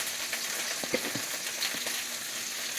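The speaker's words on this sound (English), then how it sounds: "Tilt it sideways and with your hand, push the onions in, all of them." Red onions frying in a pan, giving a steady broadband sizzle with a few soft scrapes and clicks over nearly three seconds, fairly close and constant.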